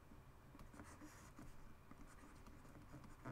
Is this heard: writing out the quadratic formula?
yes